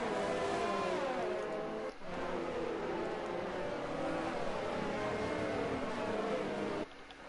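Open-wheel racing cars from an F2 video game round in Canada drone along on the formation lap warming tyres, a continuous layered engine whine with shifting pitch, fairly close, with brief gear-change dips.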